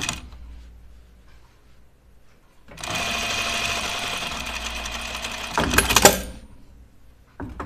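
A sewing machine runs a seam on a coat in one sustained, close burst of steady whirring, ending with louder clattering from handling before things go quiet.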